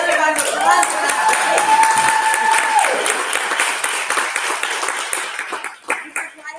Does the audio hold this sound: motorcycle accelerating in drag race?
no